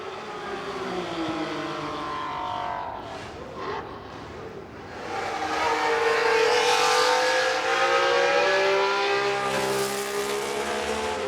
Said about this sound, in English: flat 12, 3-litre Ferrari Grand Prix car